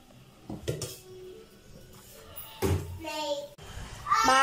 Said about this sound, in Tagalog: Nak, maghugas ka na. Dami pang hugasin, oh.